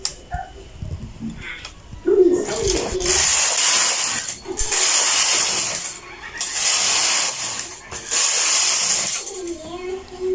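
A knitting machine carriage knits a dress, sweeping back and forth in four loud, hissing, rattling passes of about two seconds each, separated by short quiet gaps.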